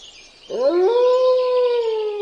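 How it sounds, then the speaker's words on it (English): A Siberian Husky howls in a long, sustained, rising-then-steady tone, loud and close, with no talking. "Have you ever wondered why some dogs howl and others don't?"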